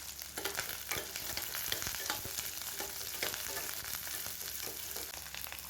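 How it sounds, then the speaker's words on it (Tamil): Onions and two sprigs of curry leaves sauté in a pan for a brinjal and raw mango tamarind curry, giving a steady close sizzle broken by frequent stirring scrapes and clicks with no voices. "வெங்காயம் வந்து கருகு விடாமல் பார்த்துக்கோங்க நல்லா வதங்கிடுச்சு இப்போ ரெண்டு கொத்து கருவேப்பிலை சேர்த்துக்கலாம்"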